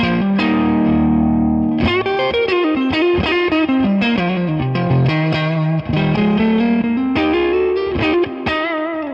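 Electric guitar played through a compressor and a Golden Reverberator reverb pedal, a clean bass-leaning tone with a held chord, then a run of close, loud plucked notes and chords ringing into reverb, alone with no talk.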